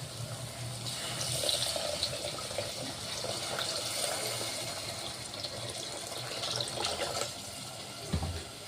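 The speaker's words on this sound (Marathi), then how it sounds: "आता मी पाणी टाकणार आहे" Water runs steadily into a pan of cooking masala for Marathi-style steamed stuffed brinjal curry with sambar powder, a continuous splashing pour with a soft thump near the end.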